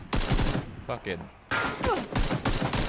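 AK rifle fire in PUBG cracks out in short bursts of several rapid shots, loud and close, broken by brief pauses, with a player talking over it.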